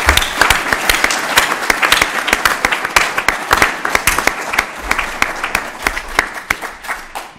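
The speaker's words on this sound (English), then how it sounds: "I hope you all join me in giving this panelist a round of applause" An audience at a panel discussion gives a panelist a loud, sustained round of applause. The individual claps stand out sharply at close range, and the clapping thins out and fades near the end.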